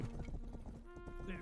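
Horse hooves clip-clopping in the video game Rustler, a quick run of hoof beats under someone talking, with game music tones entering toward the end.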